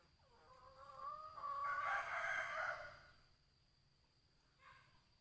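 Rooster crowing once, fairly near, a long rising call among farm chickens, followed by a quieter brief cluck in a calm outdoor setting.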